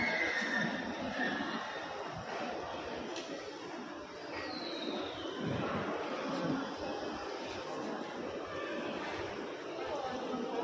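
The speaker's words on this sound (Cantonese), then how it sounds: "隻馬真嘅喎，上面有隻馬啦" A white horse at a racecourse gives a brief whinny partway through, heard faintly at a distance amid quiet crowd chatter and people talking nearby.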